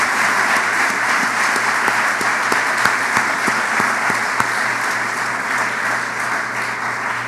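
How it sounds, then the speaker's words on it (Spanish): A church congregation applauds strongly for the Lord during a sermon, a sustained, loud wash of clapping from many hands with a faint low hum beneath. "Démosle un fuerte aplauso al Señor, hermano."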